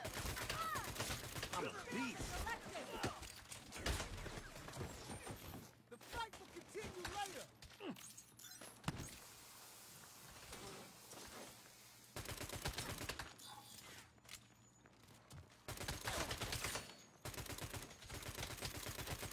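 Gunfire in the Saints Row video game during a shootout with police: dense, continuous bursts and volleys of shots with game effects, loud throughout, with voices talking over the action.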